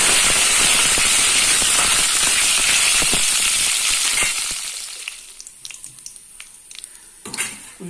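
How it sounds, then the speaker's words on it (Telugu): Mustard seeds, cumin and dried chillies splutter in hot oil as tempering for a raw banana fry: dense, loud crackling that fades after a few seconds into scattered sharp pops. "తారింపులో ఆవాలు, జీలకర్ర, ఎండుమిర్చి వేస్తున్నాను."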